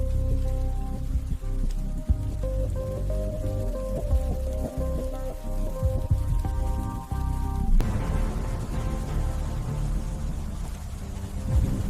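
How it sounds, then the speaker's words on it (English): Steady rain falls on a city in a constant dense patter over a low droning hum, with a brief tonal shift midway and no talk. "In the beginning, there was only the rain, a constant, cold baptism on a city that never slept."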